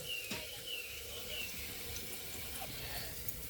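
Water runs steadily from a kitchen tap as soaked urad dal is washed, a soft continuous rushing stream, fairly quiet.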